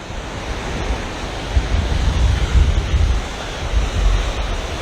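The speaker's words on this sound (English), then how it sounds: "When the waves are breaking up here, really good." Ocean surf rolls and breaks on the beach at Silver Sands, Barbados, a steady roar of churning water with a few louder swells and some wind buffeting, no voices.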